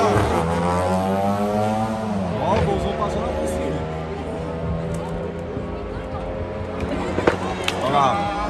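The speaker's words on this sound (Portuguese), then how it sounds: "Pera aí, ó, os caras acelerando ali, ó." A Volkswagen Gol accelerates hard at a track event, its engine note climbing and falling in several rising revs over crowd noise and nearby talk.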